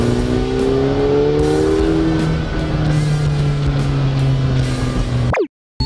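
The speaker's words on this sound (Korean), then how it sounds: "확실히 터보 엔진이라서 터빈 돌아가는 소리가 다 들려요" A McLaren 720S turbocharged engine hums steadily with a rising turbo whine layered over the drone, loud and close from inside the car, cutting out abruptly near the end.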